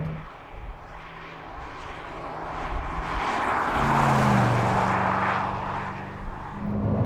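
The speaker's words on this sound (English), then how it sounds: "The oddest engine note since the 4-cylinder Boxster. That's the in-cabin sound." Chevrolet C8 Corvette engine heard from inside the cabin, a steady low droning note that swells louder and rougher midway through, then eases and rises again, with no talking over it.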